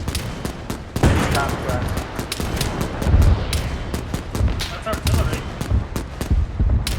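Dense video game battle gunfire in a North Africa war setting, rapid overlapping shots and bursts crackling steadily throughout, with heavier booming hits every second or so, mixed under background talk.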